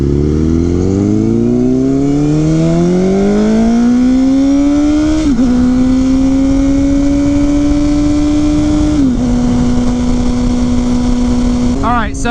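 A Honda CBR1000RR motorcycle engine climbs steadily in pitch under throttle, then holds a high, loud whine through several brief gear changes, a continuous close-up rev from a running bike.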